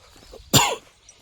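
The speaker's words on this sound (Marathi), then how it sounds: "आहे थोडा खोकला येतोय अजून" A single short, sharp cough bursts out at close range from a walker on a foggy early-morning pilgrimage trek, with quiet surroundings before and after.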